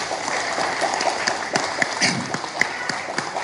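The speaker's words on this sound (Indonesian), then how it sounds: "tepuk tangan dong." Applause from an audience at a PDI-P party press gathering, a broad steady wash of clapping with a few sharper claps standing out, fairly close and moderately loud.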